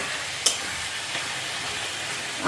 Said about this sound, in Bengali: এখানে চিকেনটা আগে ফ্রাই করে নিতেছি